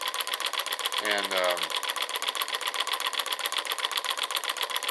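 A piston-powered Bedini-style magnetic pulse motor runs with a fast, steady mechanical chatter of regular pulses throughout, close and even, while someone speaks briefly near the start.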